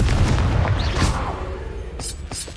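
A Confringo fire spell explodes inside a cave in Hogwarts Legacy, a loud, deep booming blast that rumbles and fades, followed by a few sharp crackling bursts near the end.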